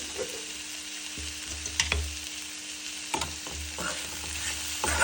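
Sautéed sprouted moong beans with turmeric and salt are stirred in a pan, a soft steady sizzle broken by several scraping spoon strokes, close and without speech.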